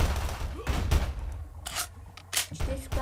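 Gunfire in the pixel shooter game Pixel Warfare, sharp bursts of several broadband shots in irregular quick succession, loud and close, with short gaps between volleys.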